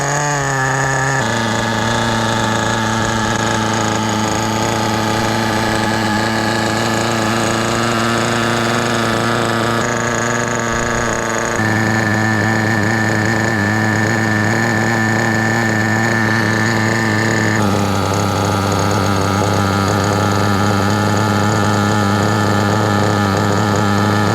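A brand-new HPI Nitro WR8 RC car's nitro engine idles on its own, a steady, loud buzzing drone that holds a constant pitch with small shifts in tone throughout.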